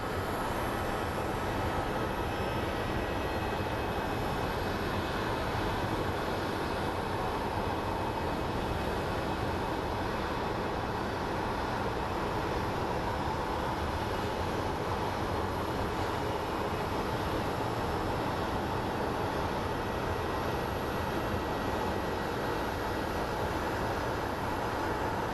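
A Southwest airliner arriving from Las Vegas lands at Phoenix Sky Harbor airport, its steady broadband engine roar loud and unbroken for the whole stretch, with no voices.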